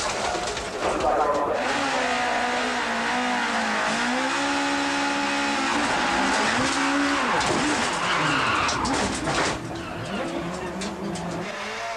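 British Touring Car Championship race cars from the early 1990s roar off the start line as a pack, engines rising and falling through gear changes with tyre squeal, while a commentator talks over the noise.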